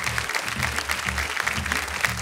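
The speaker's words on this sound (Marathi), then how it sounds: "जोरदार टाळ्या झाल्या पाहिजेत त्यांच्यासाठी." An audience at a kirtan competition show applauds for kirtankar Ashok Maharaj, dense energetic clapping throughout the short stretch, mixed with a low layer of crowd noise.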